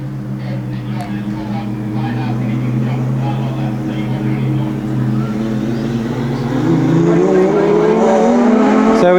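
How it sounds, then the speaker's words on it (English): Race cars roar away at a green flag start in a championship event, engines rising in pitch as they accelerate together, loud and near under a commentator's voice. "So we go green, drives across the front, bit of a touch there between Fraser and Mendez."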